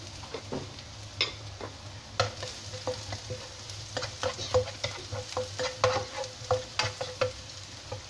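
Garlic cloves added to already crisp fried onions in a pan for a creamy pasta dish, sizzling steadily while a utensil stirs and taps repeatedly against the pan, close and without talking.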